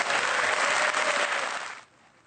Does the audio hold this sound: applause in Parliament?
yes